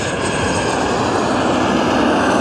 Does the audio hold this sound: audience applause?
no